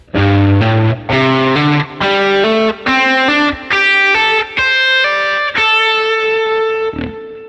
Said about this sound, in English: we're going to go through and play through the scale using hammer-ons.